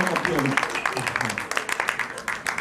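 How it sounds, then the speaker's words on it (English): A church audience at a Presbyterian gathering applauds in a steady, dense patter of claps that fills the short span, with talking over the clapping. "Let's give him a round of applause."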